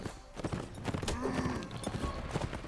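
A horse's hooves clip-clop at a steady walking pace in the video game Mount & Blade: Warband, moderately close and fairly quiet, with a few scattered clicks and game sounds around them.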